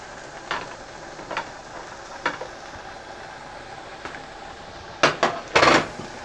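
A metal pot and lid handled on a stovetop give a few sparse clinks and knocks, then a quick burst of louder clattering bangs near the end, close and without talk.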